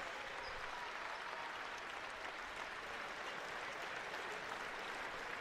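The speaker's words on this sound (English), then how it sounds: "And now the applause will rain down on the floor here as the Stadley twins come out" Applause rains down on the floor at a high school boys basketball championship game as players come out, a continuous wash of crowd clapping, fairly distant and unbroken.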